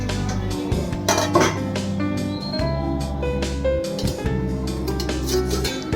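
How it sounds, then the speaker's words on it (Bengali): A lid clinks down onto a pot of potatoes set to boil, with several metallic taps and rattles heard nearby over a steady, tonal background hum. "এখন আমি এই আলুটা সিদ্ধ করতে দেব, তাই একটা ঢাকনা দিয়ে আমি এটা ঢেকে দিলাম"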